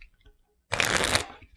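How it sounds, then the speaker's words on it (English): A deck of genre-neutral storytelling game cards being shuffled: a dense riffling burst of papery flutter lasting about half a second after a quiet pause, close and fairly loud. "Oh, they shuffle so well."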